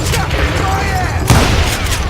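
Dynamite explosions in Call of Juarez: Gunslinger, a heavy booming blast rising over a noisy rumbling backdrop of gunfire and game action, with one stronger burst midway.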